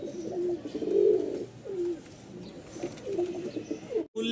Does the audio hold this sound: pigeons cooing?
yes